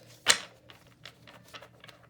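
Tarot cards being shuffled close by, starting with one sharp snap and followed by a string of soft irregular riffling taps and flicks, with no talking.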